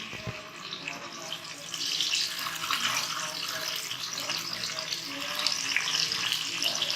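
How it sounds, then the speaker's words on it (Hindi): Eggs frying in half a cup of oil, a steady loud crackling sizzle that rises slightly and continues throughout without a break. "इसमें हमने ये अंडे ऐड कर देने हैं, इनको अच्छा सा फ्राई करना है"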